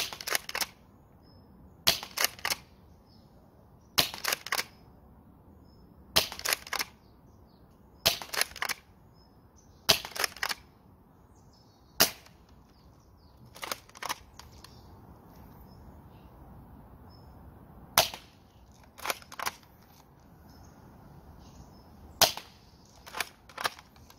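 Toy Ithaca Featherlight shotgun firing outdoors, sharp cracking shots with mechanical clacks in between, repeated at regular intervals of about two seconds, near and fairly loud over faint ambient background.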